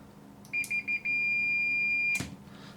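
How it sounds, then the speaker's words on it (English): A Fluke multimeter in continuity mode gives three short beeps, then one long steady tone of about a second before it cuts off abruptly with a click. "got the old fluke here on beep mode"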